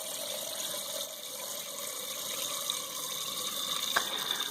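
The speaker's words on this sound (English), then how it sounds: "now I am going to add water to this" Steady broadband rush of water pouring into a pot, a continuous hissing splash at moderate volume with a small clink near the end.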